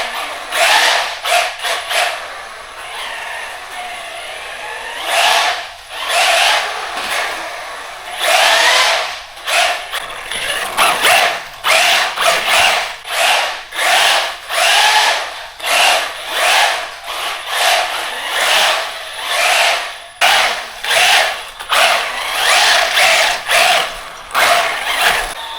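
A DEERC 8618 1/16-scale brushless RC truck revs in a garage, its motor whining up and down in loud, repeated throttle bursts separated by brief pauses, close and alone.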